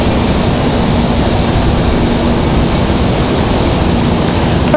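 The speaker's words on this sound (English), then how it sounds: "Going to be our next departure here. JetBlue 86 back to JFK." JetBlue jet departing Raleigh-Durham for JFK, a loud steady broadband engine roar with a faint low whine, sustained evenly throughout without talk.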